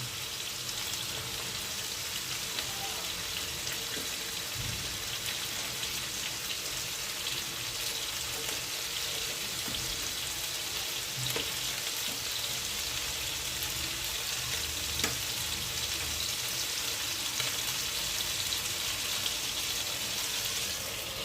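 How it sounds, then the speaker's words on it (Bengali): Chicken pieces for chicken butter masala frying in a pan, a constant soft crackling hiss at low level, even and unbroken, with a few faint knocks and no voices. "একটা সাইড কিছুটা ভাজা হয়ে গেছে, এবার অপর সাইডটা ভেজে দেওয়ার জন্য উল্টে দিচ্ছি।"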